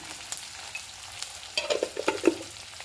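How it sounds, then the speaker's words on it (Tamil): Spices such as turmeric and chili powder being stirred and sautéed in a pan for a bitter orange pachadi side dish, giving soft scraping stirs and light sizzling bursts that grow busier in the second half, close and with no talk. "நல்லா வதக்கிக்கோங்க"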